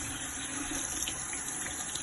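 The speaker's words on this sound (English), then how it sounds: "So firstly we should rinse our forearm and the fingers." Tap water running over a forearm and fingers during handwashing, a steady faint hiss and splash of flowing water from a faucet.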